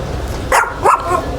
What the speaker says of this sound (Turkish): Çok güzel bir köpek.